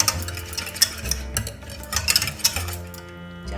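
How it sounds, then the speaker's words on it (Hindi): A spoon stirs curd into warm milk in a stainless steel bowl to make homemade dahi, giving soft repeated scrapes and light clinks over a steady low hum. "चलिए, अच्छा से मिक्स कर लिया।"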